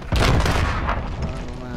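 Gunfire in a Rainbow Six Siege or Call of Duty Modern Warfare match: a loud, close burst of shots with a booming onset, then a sustained crackling tail lasting under two seconds.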